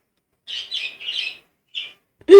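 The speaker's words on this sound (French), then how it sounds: "j'adore le bruit d'oiseaux en fond" Ambient birdsong in the Minecraft video game: a few short bright chirps in quick succession, a pause, one more chirp, then a louder squawk at the very end.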